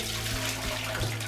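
Collected rainwater runs out of a storage tank at an eco-village to water lemon trees, a steady close splash and trickle heard on its own.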